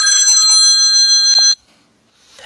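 Phone ringtone sounding as a loud, steady electronic tone for about a second and a half, then cutting off abruptly into near silence.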